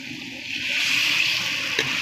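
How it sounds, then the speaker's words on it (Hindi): Water splashed into masala frying in a pan for a Punjabi-style pumpkin and chana dal, giving a steady broad hiss and sizzle that swells and holds throughout, with no talking. "तो अब इसके अंदर हल्का सा मैं पानी का छींटा ऐड करूँगी।"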